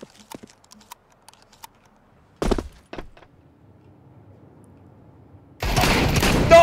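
Shotgun fire in Counter-Strike 2: after faint scattered clicks, two loud close blasts ring out, a quieter stretch follows, then a loud sustained burst of gunfire closes the clip.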